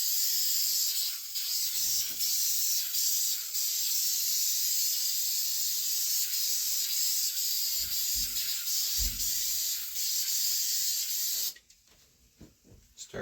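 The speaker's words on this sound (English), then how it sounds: "after you spray it with the activator" Hydro dip activator sprays onto film in a loud, steady, continuous hiss lasting many seconds, then cuts off abruptly, leaving quieter handling noises.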